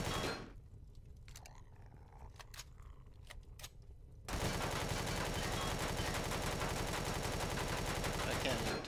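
Gunfire in the game Empyrion - Galactic Survival: a few sharp shots at first, then a sudden sustained burst of rapid automatic fire that stays loud and dense to the end.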